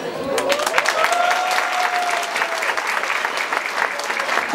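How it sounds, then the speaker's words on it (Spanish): Guests at a quinceañera party applauding together, a steady close burst of clapping with a few cheers, lasting throughout. "Un fuerte aplauso para que se llegue,"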